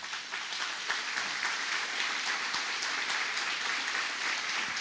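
A church congregation applauding the Lord during a sermon, dense, continuous clapping that fills the space evenly for several seconds.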